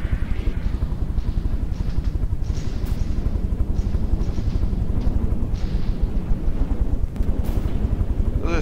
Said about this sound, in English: Get some return fire from the Bloody Waters.